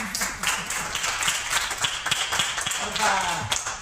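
Audience at a book fair debate in Cieza clapping for a few seconds, a steady patter of hand claps at moderate distance with faint voices mixed in.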